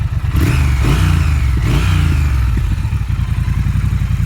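A stock 2018 Triumph Thruxton R motorcycle rumbles close by with a deep, throaty exhaust that swells in a couple of short revs before settling into a steady, fairly subdued idle.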